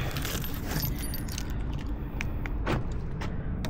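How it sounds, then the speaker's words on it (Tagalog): Keys jangle and clink close by in several quick bursts over a low background rumble, with no talk. "Ayan, kukunin ko yung susi."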